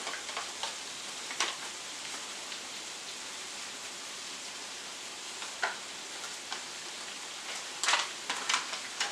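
Chili with taco seasoning and flour sizzles softly in a pan while being stirred, a steady quiet hiss broken by a few scraping clicks of the spoon.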